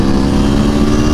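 A motorcycle engine idles and runs at low RPM with a loud, steady, rough, throbbing rumble, close up and continuous with no voices over it.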